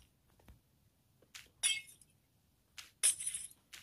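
Glass blocks breaking in the video game Minecraft, several sharp crystalline shattering bursts in quick succession against near silence.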